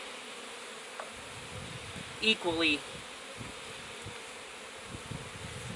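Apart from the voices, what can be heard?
honeybees buzzing while installing frames in a hive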